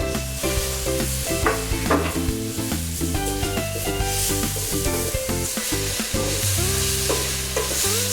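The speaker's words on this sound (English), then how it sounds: "So he's stirring." Ginger and garlic fry in a pot while being stirred for an African main dish, a continuous sizzle with irregular scraping and knocking from the stirring, partly masked by a loud, steady tonal background.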